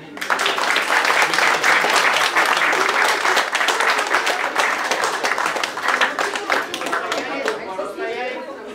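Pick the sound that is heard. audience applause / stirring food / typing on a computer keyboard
audience applause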